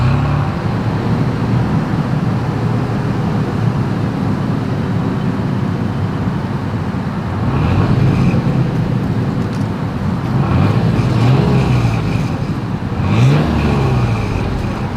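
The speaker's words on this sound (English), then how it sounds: "As always, here is that exhaust clip." A 2022 Toyota 4Runner idles with a steady low exhaust rumble, then revs up in several throaty bursts toward the end, fairly loud and close.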